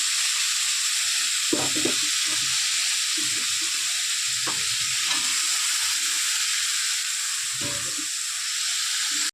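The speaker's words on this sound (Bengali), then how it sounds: "তো লবণ দিয়ে এবার এটা ভালো করে একটু ভেজে নেব, যাতে করে আলু আর গাজরটা সেদ্ধ হয়।" Potato and carrot fry in a pan with salt, a constant bright sizzle and hiss under several soft clanks and scrapes of stirring; no one talks.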